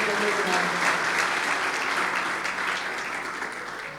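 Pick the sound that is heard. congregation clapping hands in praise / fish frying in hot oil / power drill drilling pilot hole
congregation clapping hands in praise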